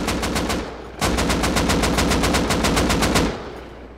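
Rapid automatic gunfire in a shooting video game, loud evenly spaced bursts of shots, one run then a brief break and a longer second run, alone with no talk.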